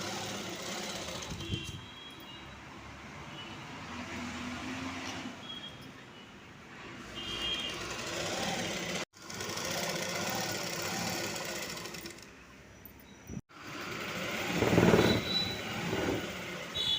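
A sewing machine stitches along the edge of a saree fall, running in steady mechanical bursts with brief pauses between passes, close and fairly loud.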